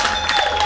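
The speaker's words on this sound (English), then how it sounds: "Can you give a round of applause for Boniface Chimedza?" Listeners at a screen acting class give a brief burst of applause with some cheering, many hands clapping together in a dense, fairly loud, continuous patter.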